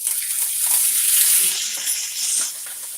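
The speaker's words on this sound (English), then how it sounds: "You want that to hear that sizzling." Bone-in, skin-on chicken thighs sizzle skin side down in a hot pan, a steady bright hiss that swells slightly and settles, close and continuous with no talking.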